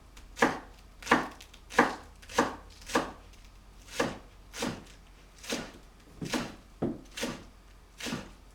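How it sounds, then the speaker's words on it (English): Knife chopping green onion on a cutting board: about a dozen crisp, evenly spaced chops, close and clear, with no talking. "So about a 1/4 cup of chopped green onion."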